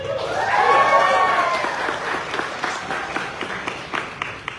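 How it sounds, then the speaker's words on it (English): A theatre audience at a Thai arts event in New York claps after a speaker's closing words, the clapping rising under a fading voice and continuing as scattered, thinning claps. "Round of applause to you all."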